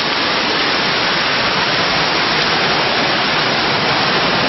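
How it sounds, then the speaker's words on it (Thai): Steady, loud rush of a waterfall in dense, pristine forest, a continuous broadband roar of falling water with no pauses, close by and unbroken throughout. "เดินเลาะเลาะน้ำตกขึ้นไปนะครับ"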